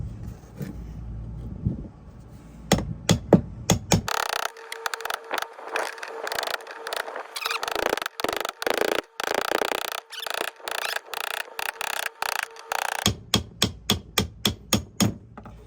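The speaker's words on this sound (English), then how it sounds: "take this flathead, angle it on one of the ridges, small hammer, and tap it around." Sharp metallic taps of a small hammer striking a flathead screwdriver angled against the ridges of the fuel pump locking ring on a 2019 Polaris Ranger XP side-by-side, coming in quick irregular bursts, close and loud, with no talking.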